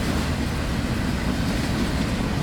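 An FEC freight train rolls past close by, a steady, loud, dense rumble of wheels and cars with no break and no voices.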